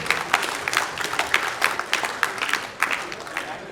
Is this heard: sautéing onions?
no